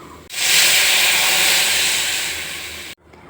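Chopped onion and garlic fry in a pan, giving a loud, steady, hissing sizzle that starts abruptly, holds for a few seconds with no talk over it, and then cuts off.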